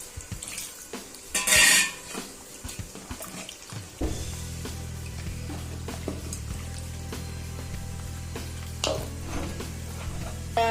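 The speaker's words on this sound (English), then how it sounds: "Now I am adding water for this." Water poured into a pot of cooked potato and coarse-ground spice for idly sambar in a home kitchen, a brief splashing burst followed by a steady low simmering hiss that runs on, with occasional clinks of a utensil.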